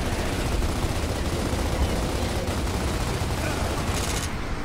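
Dense, continuous bursts of rapid gunfire from Gears of War Ultimate Edition fill the clip, loud and unrelenting, with voices faintly mixed underneath.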